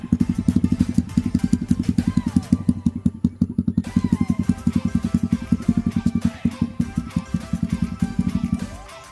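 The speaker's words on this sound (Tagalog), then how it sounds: "Ang trail talaga ang motor nila." A Honda trail motorcycle engine runs close and loud with a steady, rapid pulsing beat that holds for most of the stretch before cutting off near the end.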